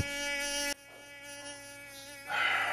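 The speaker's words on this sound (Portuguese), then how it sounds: "Tem um mosquito aqui me atajanando, mano." A mosquito whines close to the ear in a steady high-pitched drone that shifts in pitch and loudness as it hovers near someone trying to sleep.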